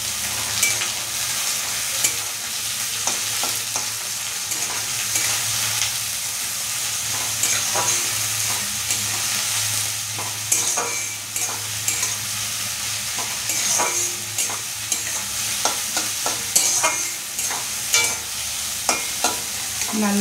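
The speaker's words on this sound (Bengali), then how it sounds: "পেঁয়াজগুলো দিয়ে দিচ্ছি, দিয়ে একটু ভেজে নেব।" Onions fry with a steady sizzle in a pan, stirred by a utensil that scrapes and clicks in frequent short strokes, close and moderately loud, with no talking.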